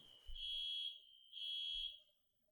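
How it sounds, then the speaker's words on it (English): A fire alarm sounds in two long, loud electronic blasts with a short gap between them, and the tone stops after the second blast. "Fire alarm?"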